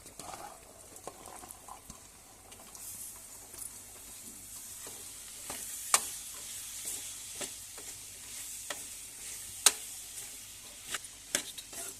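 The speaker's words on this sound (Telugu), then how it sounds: "దొండకాయ బాగా వేగాలి." Ivy gourd (tindora) frying in a pan with turmeric. A soft, steady sizzle runs throughout, and the spoon gives frequent sharp scrapes and clinks against the pan. No one talks.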